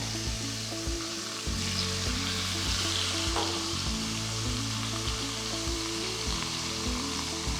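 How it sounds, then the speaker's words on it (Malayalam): Chicken sears and browns in a single pot over a high flame, a dense, steady sizzle and spatter running throughout at close range, over a low rhythmic hum from the stove. "അതിന് വേണ്ടി ഹൈ ഫ്ലെയിമിൽ ചിക്കനെ ഒന്ന് ബ്രൗൺ ആക്കി എടുക്കാം."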